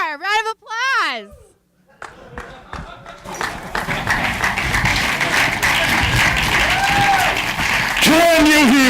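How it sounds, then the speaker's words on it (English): Audience applause at a Go programming conference debate session, a burst of clapping and crowd noise rising midway and sustained to the end, with voices and speech heard at the start and close. "Round of applause."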